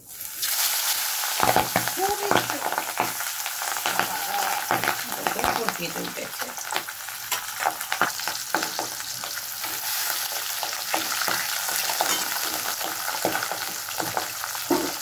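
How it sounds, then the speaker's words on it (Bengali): Fish sizzling and spattering in hot oil in a kadai for shorshe posto, a loud, steady crackle with sharper pops throughout. "এবার মাছটা ভাজবো। এইবার আমি ছাড়ছি মাছটা।"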